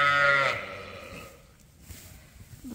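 A young ewe lamb on a sheep farm gives one loud, close bleat at the start, then it fades into quiet barn shuffling and low background noise.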